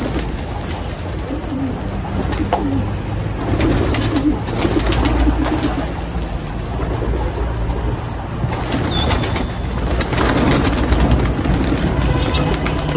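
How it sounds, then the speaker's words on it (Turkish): Pigeons cooing in low, repeated murmurs close by, with rustling and a steady background hum throughout. "Kuşlar huylandı ya arkadaşlar."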